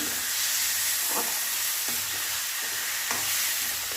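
Jackfruit kofta curry masala sizzles loudly in a pan with a constant frying hiss, while a spatula stirs it in a few soft scraping strokes.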